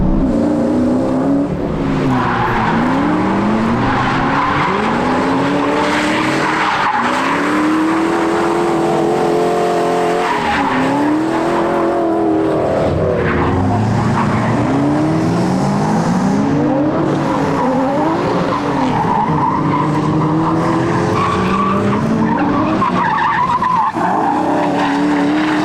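Car drifting around a track, tires squealing and skidding continuously through repeated slides while the engine revs up and down in rising and falling sweeps, loud and close throughout.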